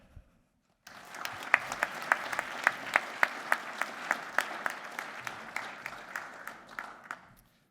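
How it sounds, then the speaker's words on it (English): An audience at a business awards event bursts into steady applause after a brief silence, with a few sharp individual claps standing out, sustained for several seconds before tapering slightly. "another round of applause"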